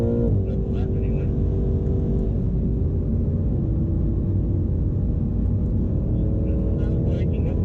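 A BMW M8 Competition on the Circuit of the Americas race track, heard from inside as a steady, loud engine drone and road rumble under power, with no clear breaks.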